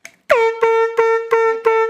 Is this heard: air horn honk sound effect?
yes